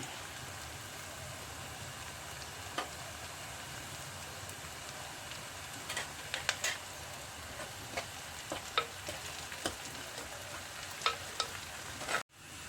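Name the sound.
onions sautéing in oil in a pan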